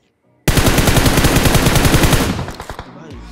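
Rapid bursts of automatic gunfire in BGMI (PUBG Mobile), a dense, loud volley of shots lasting about two seconds, then thinning to scattered echoing cracks and fading.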